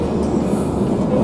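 Steady rumble of a train interior while riding, a continuous low roar of wheels and carriage noise with faint rattling, close and enveloping throughout.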